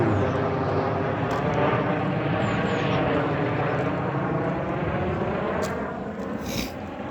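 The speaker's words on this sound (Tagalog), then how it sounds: "Oh, yun, may helicopter." Broadband aircraft engine drone, probably a helicopter passing overhead, holding steady and loud throughout before easing slightly near the end, with no talk over it.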